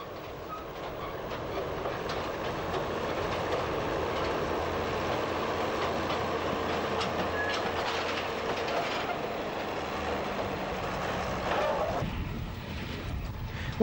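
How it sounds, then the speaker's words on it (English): A narrow gauge peat railway wagon laden with track panels rolls slowly across a viaduct in Ireland with a continuous rumble and rhythmic clicking of wheels over rail joints, fairly close. "a wagon laden with track panels is propelled cautiously across the Shannon Viaduct near Lanesborough"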